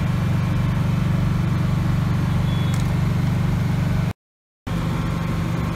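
A small generator running on cooking gas roars steadily and loudly up close after starting, its droning engine note continuous until a brief cut, then resuming at the same level.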